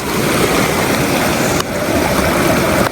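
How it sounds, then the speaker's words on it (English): A mountain stream near Tilicho Lake rushes loudly and steadily close by, a constant broadband wash of flowing water with no voices. "See, we have come right down to the stream, and let's check the water."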